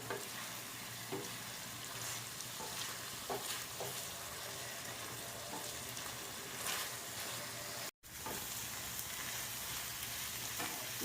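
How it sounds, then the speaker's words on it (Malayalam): Squid roasts in a pan while being stirred for a Kerala-style squid roast, a steady quiet sizzle with light scraping touches, briefly cut to silence near the end, with no talking. "ഇത് നമ്മളിങ്ങനെ ഇളക്കി കൊടുത്ത് സ്ക്വിഡ് വേകാനായിട്ട് ഏഴ് മിനിറ്റാണ്"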